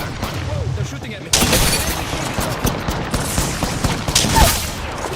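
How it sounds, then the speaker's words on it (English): Gunfire in the video game Apex Legends, a sudden loud burst of rapid shots and impacts that keeps crackling for several seconds, with a player talking over it. "Whoa, they're shooting at me."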